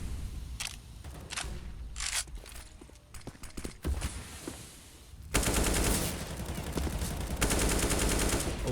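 Gunfire in Counter-Strike during a PGL Major qualifier match, with a few sharp shots early and then a dense, sustained burst of rapid automatic fire filling the last few seconds at close range.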